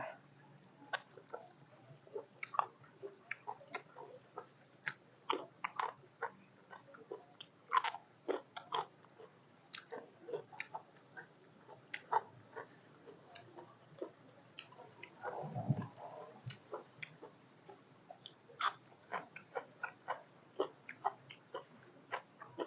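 Crunchy Thai-style pickled squid in an Isan spicy salad being chewed close up, with steady crisp bites and crunches repeating throughout and no talking.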